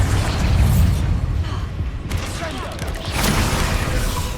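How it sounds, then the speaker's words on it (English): A Bombarda blast spell going off in the Hogwarts Legacy video game, a loud booming explosion with rumbling bursts and crackling debris, dense and sustained over combat sounds. "Bombarda!"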